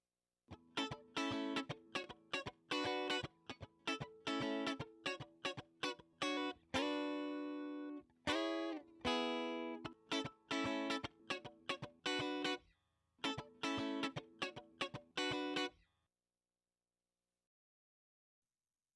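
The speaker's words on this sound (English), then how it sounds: "I want to show you how flat and dry it sounded when it was recorded" A clean, dry Stratocaster electric guitar plays a rhythmic run of short plucked notes and chords, close and unprocessed, ending abruptly in silence.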